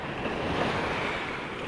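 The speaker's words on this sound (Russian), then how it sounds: "Тут сейчас очень такая нормальная волна." Sea waves at the shore in Antalya, Turkey, a steady broad wash of surf mixed with wind rumble on the microphone, continuous and fairly close with no voices.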